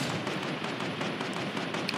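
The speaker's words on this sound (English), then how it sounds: "I'm getting shot at." Rapid gunfire in Fortnite, a dense continuous crackle of shots lasting throughout, moderately loud with no voices.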